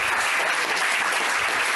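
A steady, dense wash of audience applause, many hands clapping at once without pause, full and sustained from start to end.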